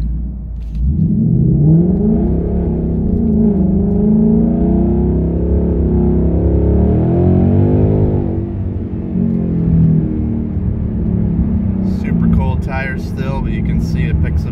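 A 2019 Ford Mustang GT pulling away from a stop sign, its V8 engine swelling into a loud, sustained roar under steady acceleration, heard from inside the car with a brief easing of the note near the end.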